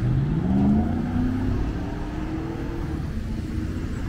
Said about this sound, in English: That truck almost hit me while I was trying to cross.